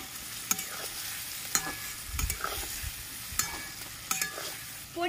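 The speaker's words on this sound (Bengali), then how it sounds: "ভালো করে একটু তেলে নেড়ে নিচ্ছি।" Pointed gourd with ground white sesame and cashew paste is stirred in hot frying oil, giving a steady sizzle broken by sharp scrapes and clacks of the spatula against the pan, with a louder splutter near the end.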